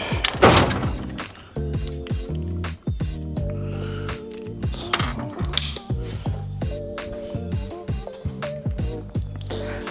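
Ratchet and socket working bolts during disassembly of an LT80 dirt bike, rapid close clicking bursts with metallic clanks and knocks in uneven spurts.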